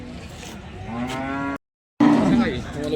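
Cattle lowing at a cow market in Sangola, with long drawn moos close by, broken by a short silent gap before another loud, harmonic moo.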